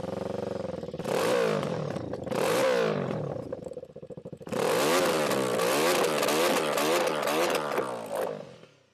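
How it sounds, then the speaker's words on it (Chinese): A 2024 Benelli motorcycle engine revved repeatedly from idle, loud close blips rising and falling in pitch, with a brief dip back to idle between bursts before a longer series of revs that winds down. "稍微把转速拉一点"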